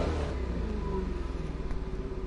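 A 2015 Ford Mustang GT Fastback V8 engine rumbles and revs in a PS4 video game, producing a steady, dense, pulsing drone. No voices are heard over it.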